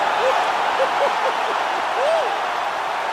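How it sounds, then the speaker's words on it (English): Crowd noise from EA Sports UFC 4 after a ground-and-pound knockout from full mount: a steady, dense roar of cheering fills the whole stretch, with brief faint whistle-like tones rising above it. "crowd loving it"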